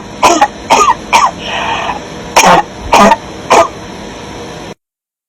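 Several short, harsh coughs or throat-clearing bursts from a nearby person, a quick pair, then a longer rasp, then three more evenly spaced hacks, loud and close with no talk over them.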